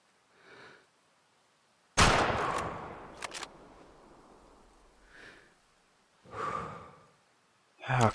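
A hunting rifle fired at a moose while hunting, one sharp loud crack followed by a fading rolling echo, with soft breaths and murmurs before and after.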